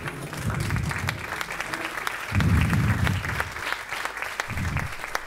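A standing audience gives a speaker a big round of applause, a dense, steady clapping close by that swells and eases in waves, with faint voices mixed in.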